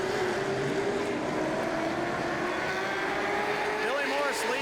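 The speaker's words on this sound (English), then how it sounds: "Billy Morris back through the gears off of turn number 4 and down the front stretch" A late model race car accelerates up through the gears off the fourth turn of a speedway onto the front stretch, its engine note climbing in pitch with each shift under a commentator's steady talk.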